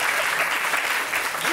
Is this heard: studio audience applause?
yes